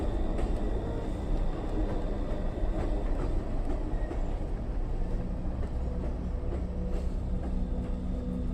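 A freight train rolls along the rails with a continuous loud rumble and faint clickety-clack, steady throughout without pauses.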